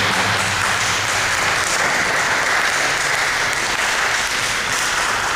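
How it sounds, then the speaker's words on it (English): Steady, dense applause fills a Toastmasters club meeting room for a speaker, a loud sustained wash of many clapping hands with no talk over it. "Please give him another round of applause."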